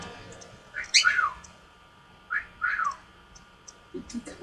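A pet bird in its cage gives a few short, bright whistled chirps in separate bursts, with quiet pauses between them.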